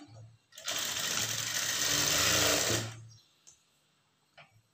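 A sewing machine stitching blouse neck pieces runs in one close, steady burst of about two and a half seconds, then stops, leaving near-quiet with a few faint clicks and handling sounds.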